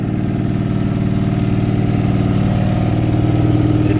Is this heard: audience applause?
no